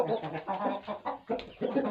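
A brooding hen clucks close by in a rapid, irregular series of short throaty calls, with no talking.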